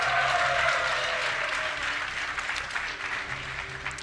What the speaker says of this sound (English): If you would like him to win, give a cheer for Fnatic MSI Sen!